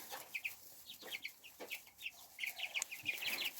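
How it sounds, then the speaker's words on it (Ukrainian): Young Popelnushka chicks and hens in a backyard flock cluck and chirp close by, with rapid overlapping peeps and short clucks repeating throughout and no talking. "Ось так ростуть мої курчата попелмушки."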